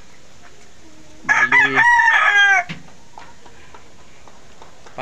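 Backyard rooster in a flock of breeding chickens lets out one loud, close cock-a-doodle-doo crow, with faint clucking before and after, while someone speaks briefly.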